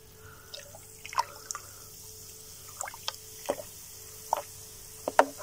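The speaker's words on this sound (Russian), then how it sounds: "Сахар с дрождями начал играть." Scattered wet pops and drips from a fermenting sugar and yeast moonshine mash, irregular and close, with quiet pauses between small bursts.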